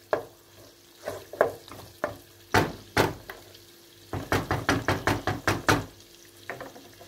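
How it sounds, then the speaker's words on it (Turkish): Pepper paste being stirred with meaty bones in a pot: a run of sharp scraping, knocking strokes, spaced irregularly at first, then a quick steady burst of close, loud stirs, with faint sizzling underneath. "Karıştırıyorum."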